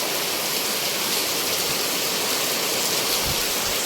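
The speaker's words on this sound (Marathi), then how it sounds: "कालपासून जोरात पाऊस आहे एकदम जोरात पाऊस खतरनाक पाऊस अजून पण थांबलाच नाही" Heavy monsoon rain pours down steadily in a dense, even hiss of water, loud and constant, with no voices.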